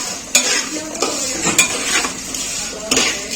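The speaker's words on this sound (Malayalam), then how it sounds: "അപ്പൊ നമ്മളതേ പായസത്തിന്റെ സേമിയ നല്ലോണം വഴറ്റിയെടുത്തോണ്ടിരിക്കുകയാണ്" Semiya vermicelli roasted and stirred in a pan for payasam, a soft continuous sizzle close by, punctuated by sharp clinks and scrapes of a spoon against the pan at irregular intervals.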